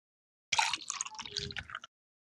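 Soda pours into a jug in a short burst of splashing and gurgling liquid that lasts just over a second, close and moderately quiet, then stops.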